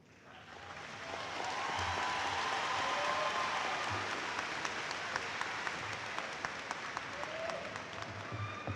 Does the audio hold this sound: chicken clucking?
no